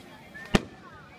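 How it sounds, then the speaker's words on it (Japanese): A single sharp firework burst goes off at a local summer festival, one loud crack that rings out briefly. "花火ですし仕方ないね"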